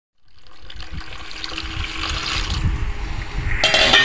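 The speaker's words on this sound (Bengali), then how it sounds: "প্রথমে পাকা বেলটিকে পরিষ্কার জলে ধুয়ে নিতে হবে।" A ripe wood apple being washed in clean water: after a brief silence, running and splashing water starts up close and grows louder, with light handling knocks mixed in.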